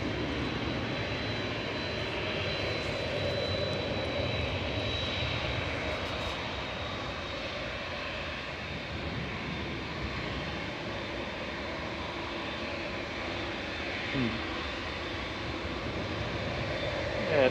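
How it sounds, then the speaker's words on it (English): An aircraft engine drones steadily at Manchester Airport as a Lufthansa flight from Frankfurt comes in to land, a distant, even roar with no voices. "Lufthansa from Frankfurt will be landing shortly."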